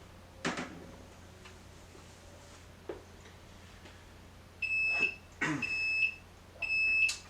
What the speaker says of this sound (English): I'm going to go ahead and start this timer